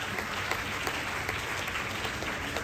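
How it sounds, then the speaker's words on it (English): Dense, steady applause fills the room as school chess and badminton players clap for themselves at an interschool championship prize distribution, loud and continuous with no talking. "Please clap for yourself,"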